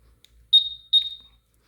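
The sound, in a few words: motorcycle alarm beeping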